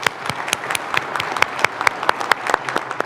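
Audience at a State of the City address applauds award winners, a dense run of claps with distinct sharp hand strikes near the listener over a steady crowd wash.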